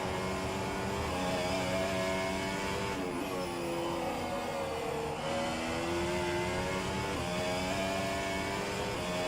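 A race car engine in a racing simulator game at Spa-Francorchamps drones steadily and loudly throughout, its pitch sliding up and down through gear changes with no voices over it.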